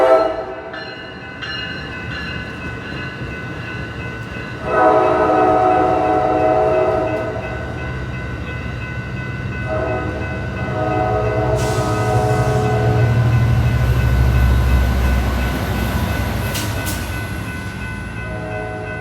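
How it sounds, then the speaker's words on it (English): Amtrak San Joaquin 714 passenger train passes through Oakland, loud and close, with a sustained horn, rumbling wheels, a bright ringing tone partway through and rail clatter building as the cars roll by. "here comes Amtrak San Joaquin 714"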